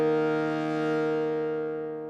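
A Korg Argon8 synthesizer plays a sustained tone with a smooth sine-wave LFO modulating effect, a steady harmonic note with rich overtones, heard alone and gradually fading over about two seconds.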